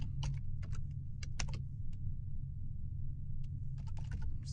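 Computer keyboard being typed on while writing code, quick clusters of clicky keystrokes with short pauses over a low steady background hum, close and fairly quiet, no talk.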